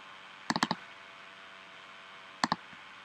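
Two quick clusters of sharp computer mouse clicks while operating gearbox diagnostic software for a faulty AL4/DP0 transmission, each a tight double or triple click, close and fairly quiet against a faint room hum, with no speech.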